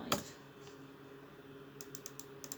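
A few crisp keystrokes on a computer keyboard as a brush size is typed into design software: one sharp click early, then a quick run of close, light taps near the end, alone.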